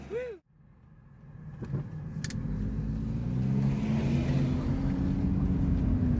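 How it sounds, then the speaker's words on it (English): A car heard from inside while driving home from refuelling: a short opening sound, then a steady engine and road hum that builds and holds, moderately quiet. "I just finished putting gas in the car, and now I'm headed back to the house"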